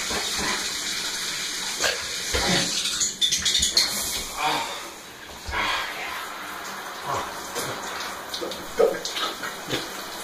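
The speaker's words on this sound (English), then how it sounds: "Nothing like a nice cold shower." A cold shower runs with a steady hiss of spraying water, close by, while a person gasps and makes brief sounds over it.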